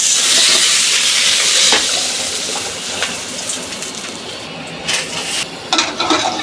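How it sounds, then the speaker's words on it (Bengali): A fried fish head goes into black gram lentil dal cooking in a pan, giving a loud hissing sizzle at first that eases into quieter bubbling with a few light clinks and stirring sounds. "মাথা ভাজা হয়ে গেছে, ডাইলে দিয়ে দিলাম।"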